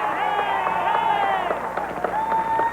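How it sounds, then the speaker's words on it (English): A basketball crowd in a gym at a 1994 high school regional final sends up a loud, sustained mass of cheering and shouting voices after a foul, steady and dense for the whole stretch. "A sarcastic cheer by the crowd as Grimes got fouled"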